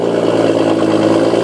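A BMW with a loud aftermarket exhaust runs on a cold start, giving a close, steady, deep droning burble with a throbbing low rumble throughout.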